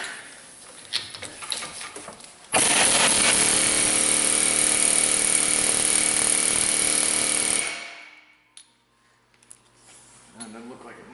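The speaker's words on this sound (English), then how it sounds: "see if we can just rattle with the air hammer and get it to pop out of there" Air hammer rattling against a lower ball joint stud on a Dodge Grand Caravan, a loud continuous chattering burst of about five seconds that starts abruptly and then winds down, with quieter shop noise and talk before and after.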